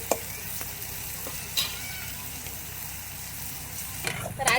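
Steady sizzling of tomatoes and garlic frying in a pan for Marathi-style brinjal curry (vangyachi bhaji), with a few scraping stirs on top of a continuous frying hiss.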